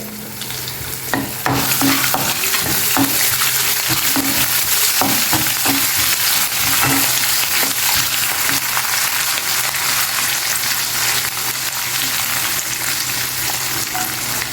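Cashews and finely chopped green chillies fry in a pan for a ghee and milk upma, making a loud, dense, continuous sizzle with scattered close stirring clicks and no speech.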